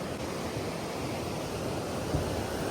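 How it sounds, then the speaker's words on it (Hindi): The Beas river rushing with stones knocking together in the water, a loud, steady, broadband roar of fast water close by, with faint thuds buried in the noise. "बहुत जोरों की आवाजें आ रही है पत्थरों के टकराने की इस नदी के अंदर से"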